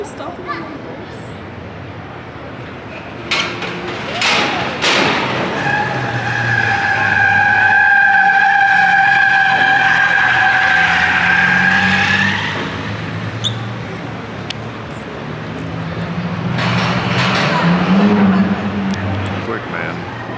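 Ford Bronco off-road demo vehicles drive a course at the LA Auto Show 2023, an engine revs and whines with tire noise over a crowded hall, while people talk nearby.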